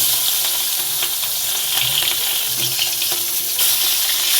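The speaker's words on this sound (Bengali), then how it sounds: "5 মিনিট মতন রেখে মাছটা ভেজে নিচ্ছি।" Pieces of catla fish coated in salt and turmeric fry in hot mustard oil, giving a continuous close sizzle with small crackles and no talking.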